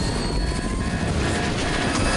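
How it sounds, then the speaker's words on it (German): A helicopter in the video game Fortnite whirs with a steady, loud rotor and engine drone that stays constant throughout, with no talking over it. "Helikopter"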